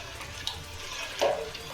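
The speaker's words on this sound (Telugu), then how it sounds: "అది ఇలా పోసుకుంటూ ఉండలు లేకుండా ఇలా తిప్పుకుంటా" Rice flour batter is poured into hot water while being stirred, a close splashing, pouring sound with a brief swirl of liquid and no talk.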